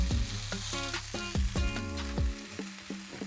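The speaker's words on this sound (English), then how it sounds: "And then we'll carefully flip the sandwich over." Buttered cheese sandwich sizzling in a pan just after being flipped, a steady close frying hiss under repeated low clunks and knocks from the spatula and pan, with some tonal ringing mixed in.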